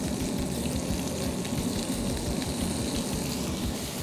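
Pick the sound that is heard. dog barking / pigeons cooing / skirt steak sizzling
skirt steak sizzling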